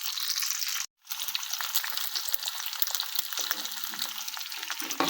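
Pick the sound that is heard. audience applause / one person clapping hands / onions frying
onions frying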